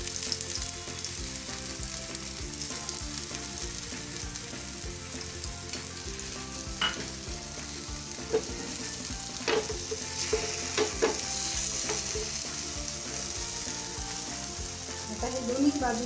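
Mixed-lentil ghavan crepe frying in oil on a pan, with a steady close sizzle throughout and a few louder crackles and pops toward the end, no talking.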